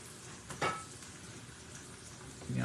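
Cubed steak frying in a pan with flour nearby, a steady soft sizzle throughout with a brief louder crackle as a piece is turned over, then another stir or movement at the end.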